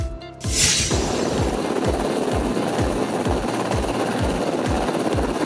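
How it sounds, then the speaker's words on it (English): A Coast Guard helicopter thunders nearby, its rotor beating in a fast, steady rhythm under a loud turbine whine that holds throughout. "Coast Guard helicopter."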